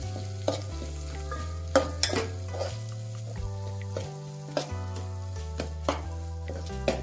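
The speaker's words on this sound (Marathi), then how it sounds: "त्याच्यानंतर हा बिर्याणी मसाला 1 चमचा तो पण टाकून घ्यायचा आणि छान असं मिक्स करून घ्यायचं।" A spatula stirs roasted chickpeas with turmeric and biryani masala in a pan for Maharashtrian solane bhat, giving repeated close scrapes and clicks over a soft sizzle and a steady background tone.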